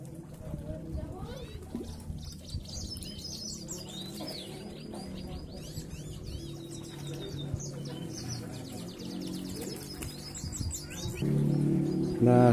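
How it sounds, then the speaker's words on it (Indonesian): Many kinds of caged birds around a house in a village at the foot of a mountain chirp and tweet in quick overlapping bursts beneath someone speaking, with occasional low cooing. "Ini semuanya dikelilingi burung, hampir ratusan jenis burung nih pemirsa."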